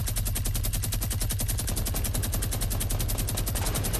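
Rapid automatic gunfire from a video game rattles in a dense, evenly spaced burst that runs the whole length, loud and continuous with no pause.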